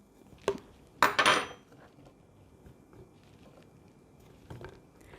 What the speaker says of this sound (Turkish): Sonra içerisine elmayı ekleyelim. kaşıkla da ittirelim.